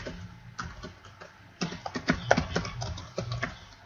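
Typing on a computer keyboard while entering a student data form title, irregular bursts of light clicky keystrokes, close and fairly quiet, with a pause before a faster run of taps.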